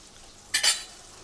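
Surmai fish frying in a little oil gives a brief, close double burst of sizzle and scraping, like the fish being turned or stirred, against a quiet background.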